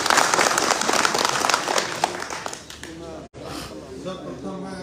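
Loud applause from a crowd at a Janata Dal (United) party workers' gathering welcoming an MLA, dense clapping fading over a few seconds with voices starting to speak underneath.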